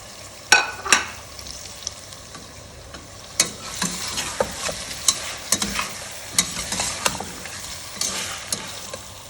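Onions sizzle and fry in a pot for biryani while a spoon stirs and scrapes them, making irregular clanks and scrapes over a steady hiss.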